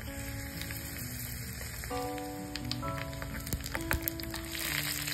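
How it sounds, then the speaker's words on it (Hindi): Mustard seeds and chilies crackle and sizzle in hot oil for a tempering, a continuous spattering hiss with small pops on top, with background music running beneath. "अब ये तेल गरम हो गया है अब इसमें हम राई डाल रहे हैं हम इसमें मिर्चा डालेंगे"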